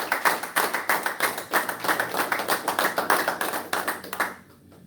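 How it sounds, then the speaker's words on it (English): A temple congregation at a Sunday service gives a round of applause, loud crisp rhythmic clapping in steady beats that cuts off abruptly near the end. "We have to give our beloved brother another round of applause"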